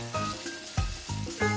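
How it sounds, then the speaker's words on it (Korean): Mugwort pancake frying in a hot pan, a close, steady sizzle with crackling pops and a few louder spits over the sputter. "지글지글 익고 있는 소리만 들어도 군침이 절로 도는데"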